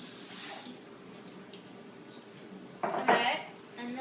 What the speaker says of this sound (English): Now we are going to wash the lettuce.